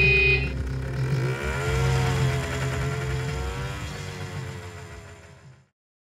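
A car engine hums and rises in pitch as the driver releases the clutch, a steady mid-range drone that swells and then fades out, with no talking.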